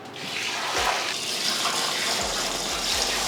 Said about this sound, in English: so now I'm gonna pour some water and then I will test with something small.